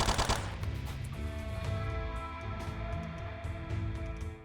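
Rapid video game turret fire chatters in a continuous stream of close automatic bursts, loudest at the start and then settling into a steady rattling cadence with a humming tonal background.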